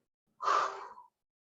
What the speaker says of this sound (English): Exhale forcefully out through the mouth.